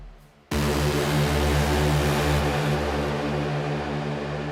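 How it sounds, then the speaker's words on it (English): A techno stab or horn synth patch built in Serum, soloed with its effects, bursts in after a brief quiet moment and holds as a dense, loud, buzzing wall of sound with throbbing low tones. "So now with everything, sounds like this soloed."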